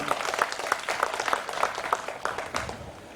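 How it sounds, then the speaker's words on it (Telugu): A crowd at a school batch reunion applauding their teachers, dense rhythmic clapping with regular strong beats, near and sustained before tapering off. "కాబట్టి వాళ్ళకి ఒకసారి చప్పట్లు కొట్టండి"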